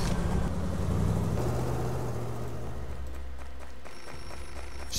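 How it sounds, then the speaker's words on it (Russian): A telephone rings inside the video game Beholder, with a ringing bell tone over steady low engine-like rumble that fades to quieter background partway through. "Возьмите трубку, нам звонят."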